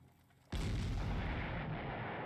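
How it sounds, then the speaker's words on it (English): An 88 gun fires in the Panzer Corps war game, a single sudden, loud artillery boom that rolls into a sustained roaring rumble. "Oh man, that 88 gun."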